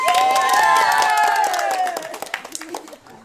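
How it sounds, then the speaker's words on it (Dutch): An audience claps and cheers briefly under a sustained sung or spoken tone, the applause fading into scattered claps and voices. "Applaus."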